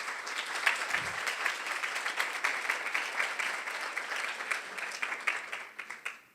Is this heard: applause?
yes